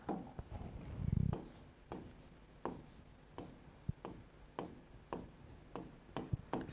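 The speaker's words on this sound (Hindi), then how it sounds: "साफ से लिखते हैं, देखो यहाँ पर" Pen or chalk writing chemistry equations, close scratchy strokes in quick irregular bursts with short pauses, under faint low speech.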